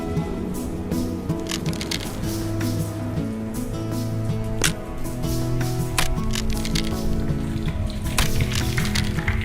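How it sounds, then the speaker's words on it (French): Rain falls with a dense patter of drops and sharp splashes on a surface, steady and fairly loud, behind a sustained musical backing. "La pluie a tombé."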